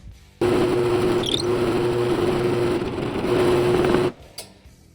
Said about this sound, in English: Now we have our hole all drilled out.